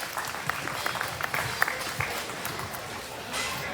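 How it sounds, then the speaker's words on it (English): Audience applause for exhibitors at a junior market barrow show at a livestock arena, fairly faint and steady with scattered distinct claps throughout. "Let's give these exhibitors a big round of applause"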